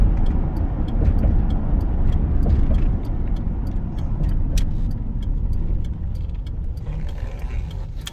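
A 2006 Ford F150 pickup driving on the road, with a steady broad rumble of tires and road noise filling the cabin throughout, plus faint rattles and clicks.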